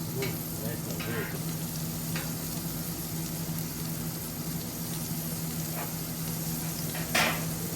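Steak sizzling and frying steadily in a pan at a camp, a continuous close crackle with a few brief clinks and scrapes over the top.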